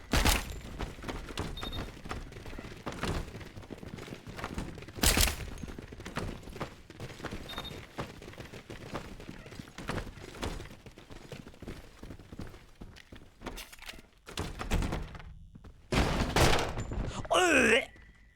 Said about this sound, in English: That is a sawed-off shotgun.